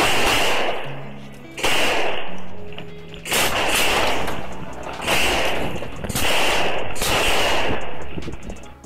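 Several loud, sharp pistol gunshots ring out in irregular bursts, each followed by a short echoing tail, with a brief pause between groups.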